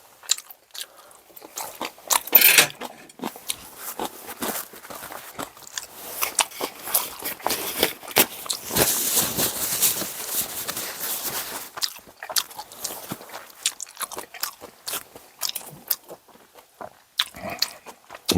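Close, loud crunching bites and chewing of crisp kimchi eaten alongside dumplings, in irregular bursts with short gaps, no talking.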